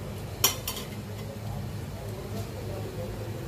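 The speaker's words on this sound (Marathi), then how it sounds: "साखर चांगली व्यवस्थित मिक्स करून घ्यायची आहे. सारणामध्ये छान मिक्स करून घ्यायची आहे." Sugar is stirred into a warm karanji filling in a pan: one sharp spoon clink against the metal early on, then soft, muffled scraping and shuffling at low level.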